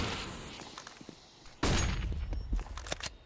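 Gunfire from an esports first-person shooter match, with scattered quiet clicks and footsteps, then a sudden loud burst of shots followed by several sharper cracks close by.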